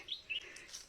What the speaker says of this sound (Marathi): सकाळी अतिशय सुंदर वातावरण सगळीकडे नुसतं पक्ष्यांचा किलबिलाट आपल्याला ऐकायला मिळेल